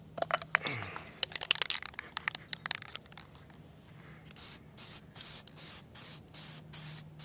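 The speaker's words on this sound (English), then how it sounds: "Now I take the spray paint." Short bursts of spray paint hiss from a can while repainting an STX30 tractor's front end, first scattered quick spritzes among light handling noises, then a steady run of even, regular sprays.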